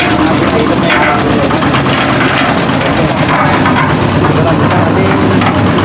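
Concrete mixer (molen) engine running steadily at close range, a loud continuous low rumble with rattling drum noise and no pauses throughout.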